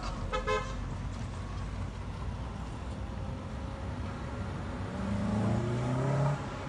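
A Honda car driving, its engine noise low and steady in the background, with a short burst of horn toots near the start and a louder revving swell toward the end.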